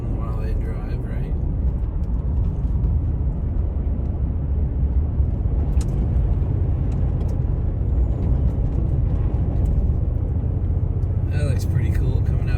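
A car drives along an ice-covered road, its engine and tire noise forming a steady, loud low rumble from inside the cabin that continues throughout with no clear change.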